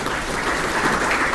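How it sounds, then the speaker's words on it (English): Audience applause fills the hall at a business awards ceremony, a dense, steady wash of clapping that stays loud and close for the whole short stretch with no voices over it. "Can we have a loud round of applause for all of you out here?"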